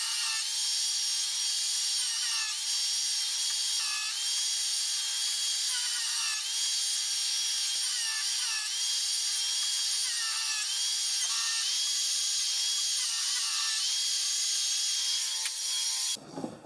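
A power tool cutting a groove down the centre of wooden Shaker door pieces, a loud, continuous high-pitched whine close by that holds steady with slight shifts in pitch, then cuts off abruptly at the end.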